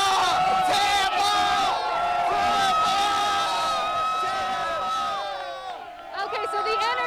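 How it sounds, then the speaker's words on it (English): Bucs football fans gathered outside with flags cheer, whoop and shout together, a loud, dense crowd of overlapping voices that roars steadily and dips briefly near the end. "Who you guys cheering for?"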